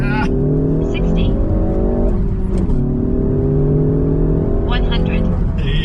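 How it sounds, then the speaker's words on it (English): A 2016 Ford Focus ST with a 2-litre turbocharged four-cylinder accelerates hard from 0 to 100, engine climbing through gears with short shift breaks, heard from inside the car with a voice speaking over it. "I love the sounds that this car makes."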